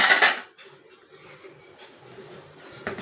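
A wet clatter as half a kilo of washed meat drops into a metal cooking pot, a short loud splash followed by quieter shuffling and a final small clunk.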